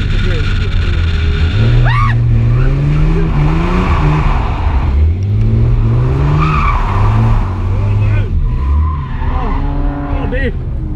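A car drifting on a track with loud, repeated tire squeals and skidding over a revving engine, while voices talk and exclaim throughout.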